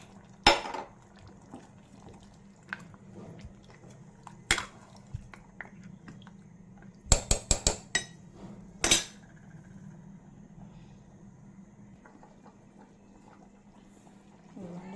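A spoon strikes and scrapes a steel pot of simmering mutton curry in sharp, irregular metallic clanks, including a quick cluster of knocks, over a quiet bubbling background, close to the pot.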